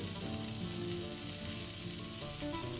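Ham and cheese croquettes deep-fry in hot vegetable oil, giving a steady, dense bubbling sizzle that holds level and unbroken throughout, with no talking.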